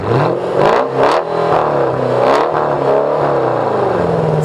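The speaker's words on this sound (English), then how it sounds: "it has a 5 litre V8, which sounds a bit like this" A Mercedes 5-litre V8 car engine revs repeatedly, its pitch rising and falling in surges, loud and close with a throaty rumble and whirring overtones.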